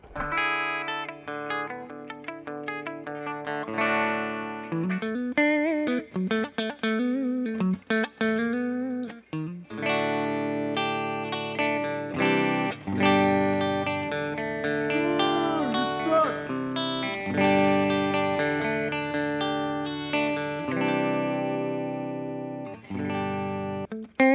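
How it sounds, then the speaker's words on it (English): An electric guitar plays continuous chords and melodic lines through a repaired Fender Blues Junior tube amplifier, warm and slightly distorted with some reverb, steady and fairly loud. "We're going to plug a guitar in it that's in tune"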